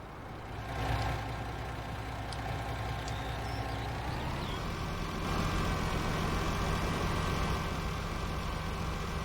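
A truck engine in Farming Simulator 19 runs steadily throughout, a droning rumble with a tonal whine that rises slightly partway through, loud and continuous with no talking.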